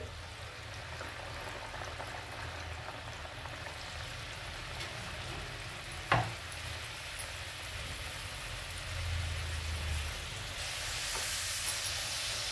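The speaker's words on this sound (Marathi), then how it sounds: "आता असा कलर येऊपर्यंत आपल्याला लाडू तळून घ्यायचे" Wheat flour valiv laddoos frying in hot oil give a steady soft sizzle throughout, with one brief sharp crackle midway and a slightly brighter, fuller hiss toward the end.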